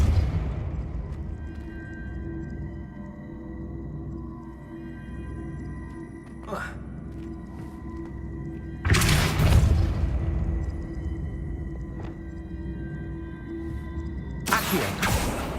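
Depulso spell cast in the video game Hogwarts Legacy, two sharp whooshing bursts a few seconds apart over a low ambient drone, with a fainter pop between them.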